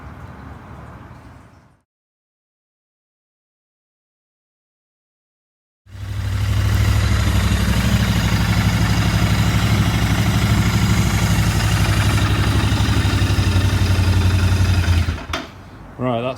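A Royal Enfield Interceptor 650 motorcycle engine, just after an oil and filter change, starts after a silent pause and idles loud and close for about nine seconds with a steady low throb, then cuts off.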